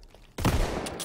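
A sudden loud burst of gunfire in Call of Duty: WW2 cuts in abruptly after near silence, a booming blast that rings on briefly with a couple of faint sharp cracks.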